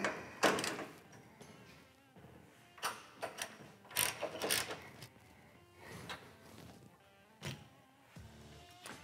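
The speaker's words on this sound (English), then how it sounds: "And tighten it down with your 14 millimeter" A 14 mm socket wrench ratchets as bolts on a strut bracket are tightened during a Kawasaki Mule XT roof rack installation, heard as irregular bursts of clicking with pauses, close and fairly quiet.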